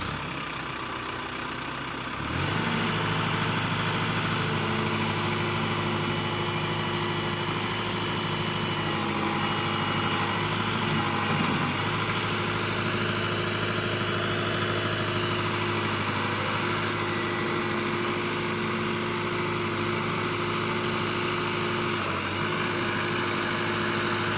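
A New Holland TC55DA compact tractor of about 55 horsepower, with 307 hours, cranks briefly and starts, then settles into a loud, steady diesel idle with a constant low drone and hum held for over twenty seconds.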